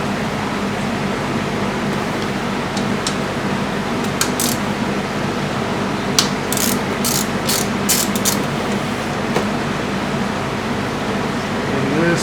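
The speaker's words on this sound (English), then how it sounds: "We'll be turning this with a 17mm socket to turn the crankshaft." A ratchet with a 17mm socket turns the crankshaft of a Vstrom DL1000 motorcycle engine during a valve adjustment, with bursts of quick clicking over a steady background hum.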